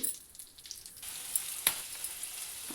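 Green chillies fry in a pan of oil for paneer curry, a soft steady sizzle with small crackles and pops, close and fairly quiet with no voices.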